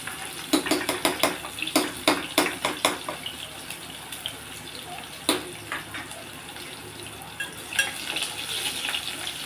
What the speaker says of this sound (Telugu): వెల్లుల్లిపాయలు వేస్తున్నాము.